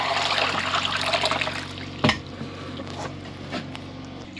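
Water sloshes and trickles in a gold pan while the concentrate from a Gold Cube cleanout is panned, with a swirling wash up front, then a sharp knock of the pan and softer dribbles.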